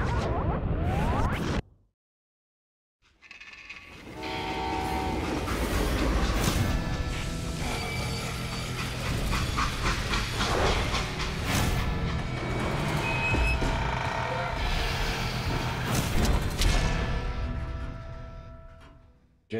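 A freight train runs on the rails with a dense, continuous roar of rumbling and metallic clatter. It cuts out briefly near the start, then returns loud and sustained to the end.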